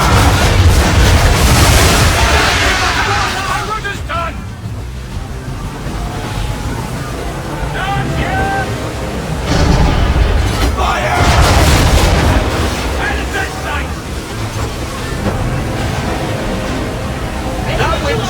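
Ship cannons boom repeatedly in a naval battle in Assassin's Creed III, with heavy low blasts rolling under shouted orders and crew voices throughout.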